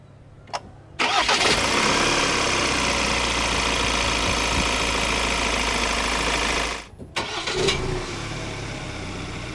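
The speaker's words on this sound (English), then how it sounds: "hit this engine start stop button to fire up the engine" A 2023 Ford Ranger Wildtrak 2.0 turbo fires up from a push-button start with a quick crank and catch, runs at a loud steady high idle, then cuts back and settles into a quieter idle, with no talking.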